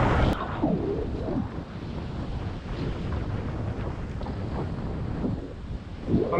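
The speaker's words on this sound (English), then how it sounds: "that wind has definitely come in" Strong wind gusts over seaside rocks during snapper fishing from the shore, buffeting the microphone in a steady roar with faint surf underneath the whole time.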